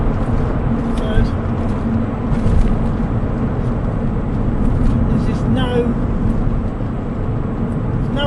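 Porsche 911 996.2 Tiptronic with a sunroof and Dansk exhaust, driving: a steady, close low engine rumble runs unbroken from start to finish, with mild swells in loudness.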